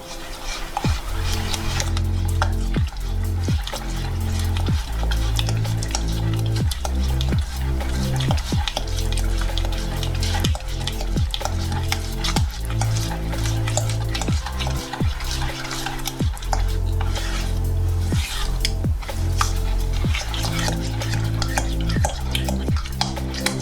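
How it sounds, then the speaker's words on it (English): A spoon stirring eggs into cheesecake brownie batter in a bowl, a steady run of thick wet scraping strokes with regular clinks against the bowl, close and prominent, no talking. "You add just 1 egg at a time, stir it in, mix it all up."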